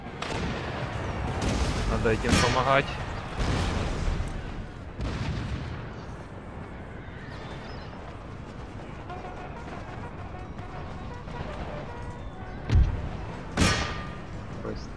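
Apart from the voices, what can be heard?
cannon firing cannonballs in video game Empire Total War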